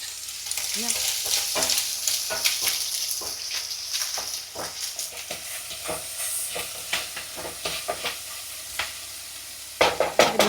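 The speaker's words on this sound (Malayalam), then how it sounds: "സബോള പെട്ടെന്ന് വഴറ്റി കിട്ടാൻ വേണ്ടിയിട്ട് ഉപ്പ് ആഡ് ചെയ്യാം" Onions sizzle with salt in a hot pan, a steady frying hiss broken by frequent scraping stir strokes, close and continuous, with no one talking.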